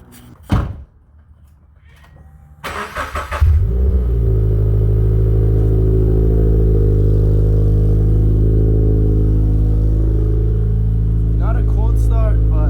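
Subaru BRZ engine cranking and catching after a door thud, then settling into a steady, loud, close idle that continues to the end, with brief talk at the start.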